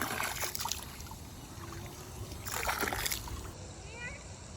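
Pond dye poured from a container into outdoor pond water gives soft splashing and trickling in two louder bursts over steady background noise.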